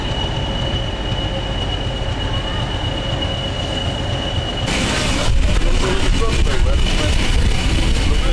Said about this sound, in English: There's a diesel they're just putting some carriages on it.